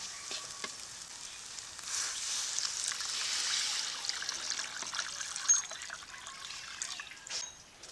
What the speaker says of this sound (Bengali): মশলাটাকে ভালো করে কষিয়ে নিয়েছি এখন জল দিয়ে দেবো